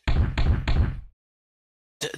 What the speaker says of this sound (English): Something's at the door, be careful.